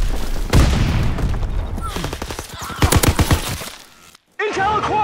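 Call of Duty: WWII gunfire during a multiplayer battle, with dense, loud rattling rifle and machine-gun bursts and booming impacts mixed with voices, a brief drop to silence, then more clattering action.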